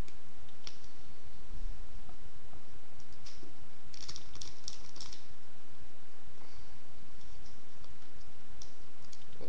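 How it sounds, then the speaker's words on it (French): Playing cards being shuffled during a card trick, giving dense close crisp clicking and riffling patter with small bursts of sharper snaps, continuous throughout without speech. "on va lui faire mélanger les cartes"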